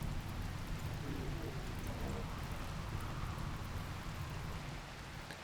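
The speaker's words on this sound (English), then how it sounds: "Rain? Rain! Woohoo!" Rain falling in the video game RimWorld, a dense steady wash of broadband hiss with a low rumbling undertone, continuous and fairly loud throughout, with faint muffled voice sounds buried beneath.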